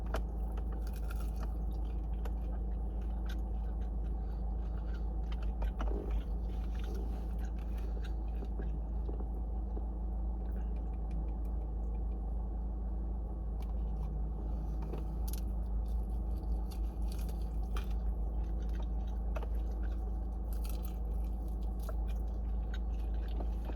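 Someone eats Buffalo Wild Wings chicken wings and fries at the restaurant, with faint wet chewing and occasional bites over a steady low room rumble.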